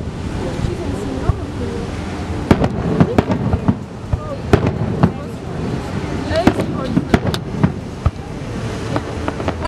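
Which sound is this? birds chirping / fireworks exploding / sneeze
fireworks exploding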